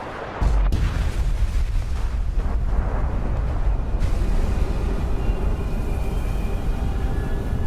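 A nuclear bomb detonates in the video game Fallout 76: a sudden heavy boom followed by a loud, sustained roaring rumble that keeps going without fading, with no voices.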